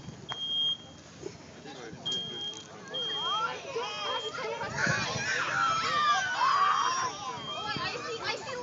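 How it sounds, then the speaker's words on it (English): A smoke detector sounds in a burning room at a fire department open house sprinkler demonstration, giving short high beeps under crowd chatter and excited voices, with fire crackle and commotion building toward the end. "14 seconds that clock went off, or smoke detector went."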